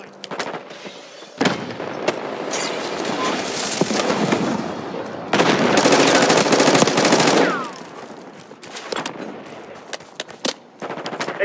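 Gunfire in the video game Call of Duty: Black Ops 6 rattles in loud, rapid automatic bursts and single cracks, with a long dense volley in the middle and scattered shots after, plus brief voice lines.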